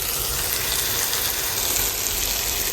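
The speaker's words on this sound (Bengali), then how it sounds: "আলু ভাজা আর 2টা শুটকি মাছ ভেজে নিলাম।" Potatoes and dried fish (shutki) fry in a pan with a dense, steady crackling sizzle, heard close and uninterrupted until it cuts off abruptly.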